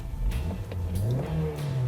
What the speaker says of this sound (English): you get the very familiar Honda engine sound.